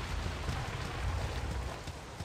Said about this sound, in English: It's raining up a storm now.